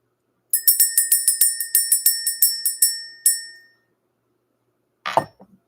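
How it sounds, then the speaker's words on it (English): A ringing bell struck about a dozen times in quick, even succession, each bright metallic ding decaying into the next, then one final strike left to ring out, followed by a brief rustle. "Let's go ahead and ring this bell."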